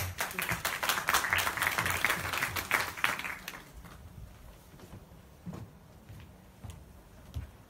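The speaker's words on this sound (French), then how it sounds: "Vous pouvez l'applaudir." An audience claps for the final candidate at a quiz-show taping, a dense burst of applause for about three seconds that then thins to a few scattered claps and small knocks.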